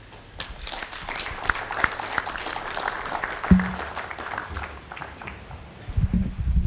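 An outdoor audience at the groundbreaking ceremony for First Capital Bank House applauds in a dense, moderate wash of clapping that holds steady for several seconds, with a brief thump midway and low rumbling near the end.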